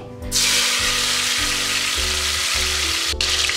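Tomato sizzles loudly in oil inside a pressure cooker, giving a dense, continuous frying hiss with a steady low hum underneath and no talking.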